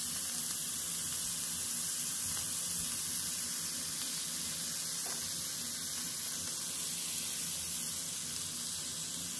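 Chaffle batter sizzles on the hot plates of a waffle maker, a steady, even hiss of frying heard close and alone for the whole stretch with no talking.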